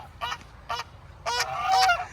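Geese on a pasture farm honk in a few short bursts, two brief calls followed by a longer, louder run of overlapping honks, close by with a low rumble underneath.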